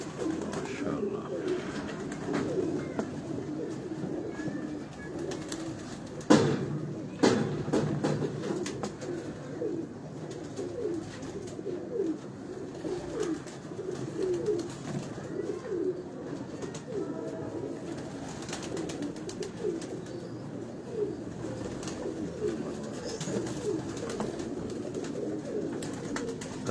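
Pigeons coo in soft, repeated throaty calls close by on a Lahore rooftop, continuing throughout with a brief knock partway in.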